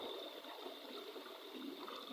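Water runs and splashes steadily while a chalcedony agate rock is rinsed outdoors, a soft continuous hiss heard alone at low level.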